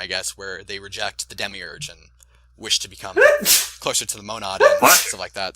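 A single sharp sneeze bursts out in the middle of steady conversation, loud and close, with people talking before and after it.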